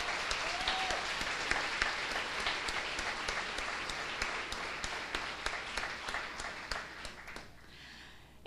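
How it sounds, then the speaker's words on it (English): Audience applause fills a hall at the opening of a conference, steady dense clapping for about eight seconds before thinning out near the end. "Please let's give them a huge round of applause."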